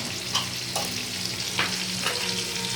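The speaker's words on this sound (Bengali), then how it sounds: "বেগুনটা আমি এবার হালকা হাতে সটে করে নিচ্ছি" Salted, turmeric-dusted eggplant sautés in a pan over high flame, a steady sizzle with a few sharper stirring scrapes spaced through it.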